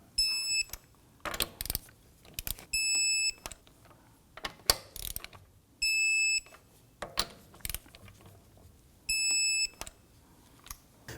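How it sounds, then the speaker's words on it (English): Lug nuts on a Volvo XC90 being tightened in a crisscross pattern with a torque wrench, with ratcheting clicks and clacks and four short electronic beeps from the wrench as each nut reaches torque. "Let's now go ahead and torque down the lug nuts to 103 foot-pounds."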